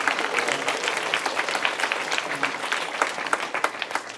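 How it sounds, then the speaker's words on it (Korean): A school chapel congregation applauds warmly, many hands clapping in a dense steady wash that carries on throughout with individual claps poking through toward the end. "또 한 번 박수하십시다."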